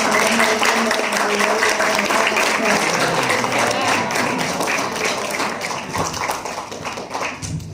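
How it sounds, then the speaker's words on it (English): A school presentation audience claps loudly and densely for the presenter, a thick wash of many hands that fades slightly toward the end. "Let's give one more round of applause to Dava"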